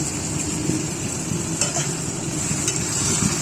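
Food stirred in a hot pan while cooking, a dense continuous sizzle and scrape with occasional sharper clicks of the utensil, close and steady.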